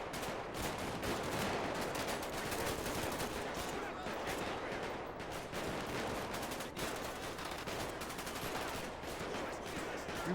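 Sustained gunfire rages during a night warrant shootout in the LSPDFR police mod for a video game, a dense, loud barrage of rapid automatic bursts and overlapping shots that continues without pause.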